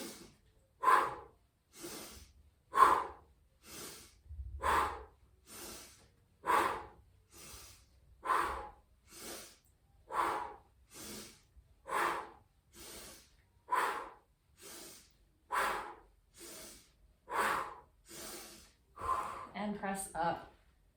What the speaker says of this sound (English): pumping breath in through your nose